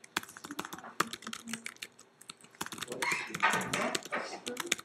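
Computer keyboard typing, rapid irregular clicks close by, with a dog barking at times and a person talking in the background.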